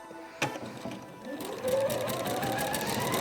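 A sewing machine stitches fabric for a pet rag quilt, starting with a click and then whirring up into a close, rapid, steady stitching rhythm.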